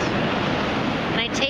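Ocean waves break in a continuous, loud rush of surf, with the wash easing and shifting slightly toward the end.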